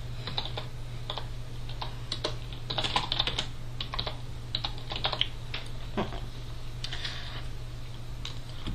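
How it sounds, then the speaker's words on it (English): Steady, fairly quiet typing on a computer keyboard, a continuous run of light clicking keystrokes with no talking. "type in your title, type in your content"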